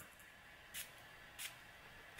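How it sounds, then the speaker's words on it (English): An Ariana Grande perfume bottle gives two short, crisp spray hisses about two-thirds of a second apart, close and clear against a quiet background. "Spray it to the camera"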